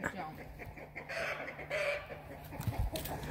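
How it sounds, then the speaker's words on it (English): Chickens on a farm cluck and squawk in the mid-distance with a strained crowing call, over a low background hum and some faint voices. "Now the chickens are doing their crazy thing."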